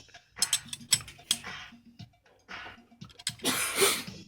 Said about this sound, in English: before you take off the nut, you hold the bottom one so you can take the top one off